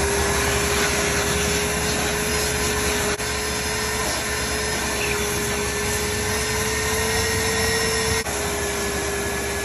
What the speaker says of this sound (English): we'll get a good vacuum on it